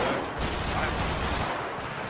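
Bursts of gunfire crackle in a GTA V NoPixel roleplay shootout, a dense fusillade of rapid shots blending into a noisy wash for about two seconds, with a voice faintly underneath.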